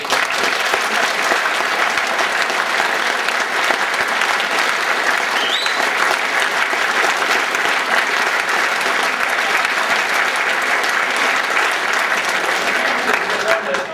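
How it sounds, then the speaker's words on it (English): Sustained, dense applause from a large crowd, steady and loud throughout with no pauses, occasional cheers blending into the clapping. "I want to give a big round of applause to this guy."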